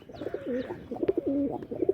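Three pigeons cooing close by, rolling, throaty coos that repeat in quick overlapping phrases with a few sharp clicks between them.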